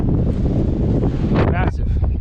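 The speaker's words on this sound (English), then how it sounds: "It's super windy out, rainy as you can see as well." Strong wind gusts buffet the microphone on an exposed hilltop at an abandoned missile silo in the rain, a constant loud roar with brief louder surges, and a voice speaking under it.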